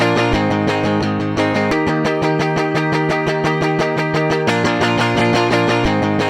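A sampled clean electric guitar plays a four-bar chord progression, its strummed chords sounding alone in a steady, even rhythm that is loud and close.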